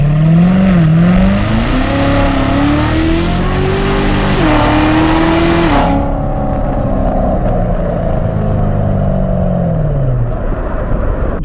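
A Chevrolet C7 Corvette Z06 with a 650 horsepower engine accelerates hard, its loud close engine note rising in pitch through a couple of gear changes, then settling into a steady drone as the whoosh fades.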